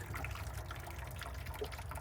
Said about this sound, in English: You can see the water's coming down. It's going in. It's running back out.